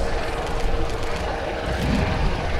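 A helicopter gathering speed along the runway at an air show in Cholet, a loud, steady, broadband engine and rotor roar with no voices.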